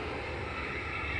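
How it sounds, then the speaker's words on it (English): A JetBlue jet airliner roars steadily on the runway at Fort Lauderdale-Hollywood International Airport, a broad, constant engine rumble heard from a moderate distance. "Another two jet blues."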